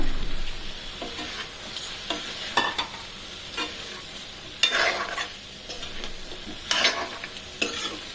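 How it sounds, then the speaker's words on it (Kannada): Boiled potatoes frying in a pan for a gravy, with a soft continuous sizzle under repeated scraping stirs of a spoon, each stroke a short, bright scrape. "ಫ್ರೈ ಆಗ್ತಾ ಇದೆ. ಈಗ ನಾವು ಏನು ಆಲೂಗಡ್ಡೆ ಬೇಯಿಸ್ಕೊಂಡಿದ್ದೀವೋ ಅದನ್ನು ಹಾಕೋಣ."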